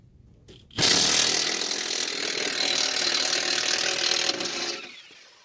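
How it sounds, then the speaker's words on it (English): A power tool works a front control arm bolt on a 2001-2004 Honda Civic or Acura 1.7 EL: after a short quiet start, a loud, steady high-pitched whirring grind runs for about four seconds, then winds down. "So we are ready to remove the other bolt."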